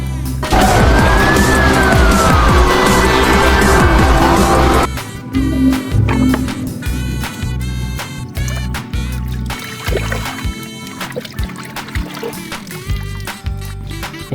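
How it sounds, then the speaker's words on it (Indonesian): A toy police car's electronic siren sounds alone for several seconds in a loud wailing tone. It then gives way to softer clicking and rattling. "Wow, police car."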